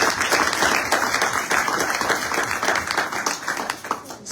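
A church congregation breaks into sustained applause and acclamation, dense clapping with some cheering throughout, fairly loud and steady.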